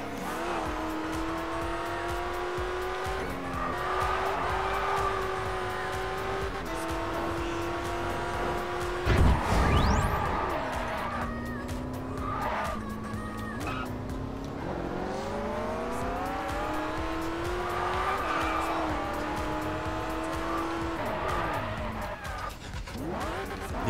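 A car in the racing game Test Drive Unlimited drives continuously with a steady engine drone that rises and falls through gear changes, broken by a sharp tire skid partway through; there is no talking over it.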